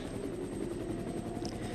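A helicopter in Resident Evil 1.5 drones with a steady rotor chop and deep engine rumble, loud and continuous throughout, with no voices over it.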